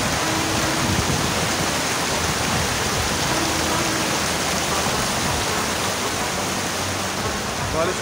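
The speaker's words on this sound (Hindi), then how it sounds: "बारिश शुरू हो चुकी है" Rain falling in a mountain valley in the Thal area of Swat, a dense, steady hiss that stays constant throughout, loud and close, with no distinct drops standing out.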